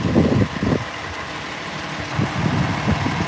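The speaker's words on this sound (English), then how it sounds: "How much gas you think this thing takes to sit and idle?" Giant vehicle sitting at idle, a low rumbling engine drone with uneven pulsing bursts, fairly close and steady, no voices.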